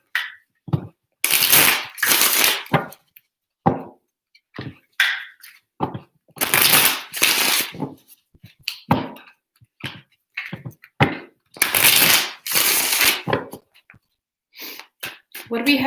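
Tarot cards are shuffled in three separate bursts of crisp riffling, each lasting about a second, with scattered taps and handling noises between them, close and fairly loud.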